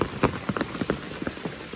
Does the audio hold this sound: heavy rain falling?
yes